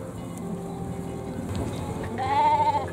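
Freshly shorn sheep in an outdoor flock eating dry hay at low evening sun, one wavering bleat rising near the end over a soft, steady background murmur.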